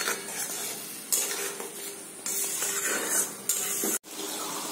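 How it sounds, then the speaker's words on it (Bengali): Tomato and spice masala being stirred and fried in a pan with turmeric, a steady sizzle broken by repeated scraping stirs of a utensil against the pan, close and fairly loud, with a brief gap near the end. "তো দেখো কি সুন্দর মশলাটা কষানো হয়েছে"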